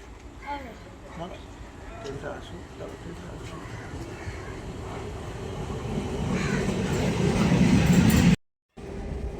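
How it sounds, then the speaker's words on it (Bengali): A train rumbles in, its low roar and rattling growing steadily louder as it nears, with people talking over the noise. "এবারে ট্রেন চলে আসছে"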